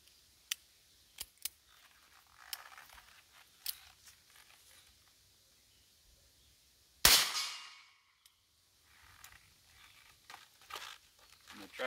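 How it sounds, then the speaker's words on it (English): A Heritage Rough Rider revolver with a 9-inch barrel fired outdoors in the country: one loud, sharp report with a ringing echo, preceded by a few faint clicks and handling sounds. "Put a few more rounds on it before I turn the camera off."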